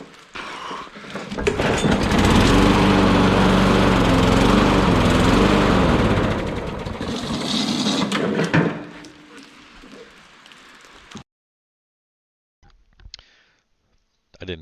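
An old lawn mower engine starts, sputters with uneven pitch, roars loudly for several seconds, then winds down and dies into silence, followed by a few faint clicks and handling noises.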